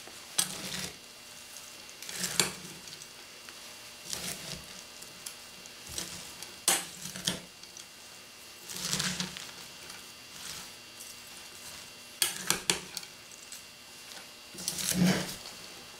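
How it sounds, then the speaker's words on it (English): Dry coleslaw ingredients being mixed in a bowl: quiet, close scraping and tossing strokes that come in irregular bursts every second or two, with soft clicks in between. "So we start mixing the dry ingredients here"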